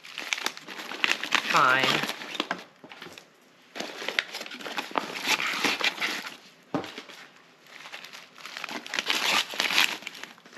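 Freeze-dried food bags crinkle and rustle as they are packed into a bag, with repeated close plastic crumpling in bursts under occasional speech.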